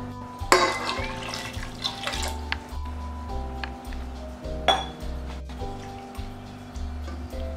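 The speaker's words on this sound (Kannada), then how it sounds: "ಇವಾಗ ಇದಕ್ಕೆ ನಾನು ದೊಡ್ಡ ಲೋಟದಲ್ಲಿ 3 ಲೋಟದಷ್ಟು ನೀರು ಹಾಕೋತಾ ಇದ್ದೀನಿ" Water poured from a large tumbler into a cooker holding dal, splashing and gurgling close by with sharp metallic clinks of the vessels, over a low steady hum, no talking.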